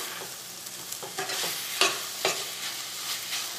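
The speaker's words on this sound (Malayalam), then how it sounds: "ഇനി നമുക്കൊന്ന് ഇളക്കിയിട്ടിട്ട് നമുക്കൊരു മീഡിയം ഫ്ലെയിമിലിട്ടിട്ട് കറി വേവിച്ചെടുക്കാം." Chicken curry (nadan kozhi masala) stirred in a pan as it cooks over medium flame, with a steady sizzle and repeated scraping strokes of the spoon, close and fairly quiet, no voices.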